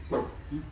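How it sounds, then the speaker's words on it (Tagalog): A large dog gives a single short bark, fairly close, followed by a softer low woof, against quiet outdoor background noise. "May aso, boy."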